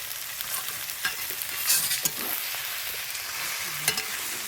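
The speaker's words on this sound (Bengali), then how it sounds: "এই আমি চিকেনটা দিয়ে দিলাম" Marinated chicken for sesame chicken sizzles steadily in a hot pan, a continuous close crackle with occasional stirring scrapes.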